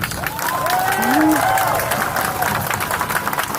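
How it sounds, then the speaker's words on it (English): A crowd at a rally against police brutality applauds and cheers, sustained clapping with whoops and raised voices rising over it midway. "And one more round of applause for yourselves and for our speakers"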